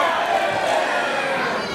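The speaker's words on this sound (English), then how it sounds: "And the crowd erupts into an Edith chant." A sold-out crowd at a Gate 1 Theatre wrestling show chants for Edith Knight, a dense, steady roar of many voices filling the hall without a break.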